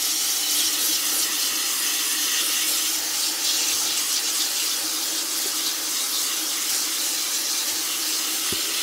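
A strong water jet pours into a bucket, making a steady, close rushing hiss that holds evenly throughout with no talk.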